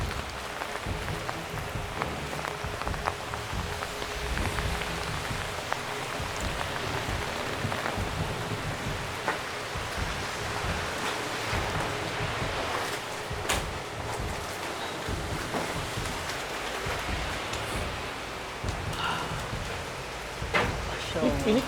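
Heavy rain pours down beside a main road, a steady, dense hiss that fills the whole stretch, with people talking over it.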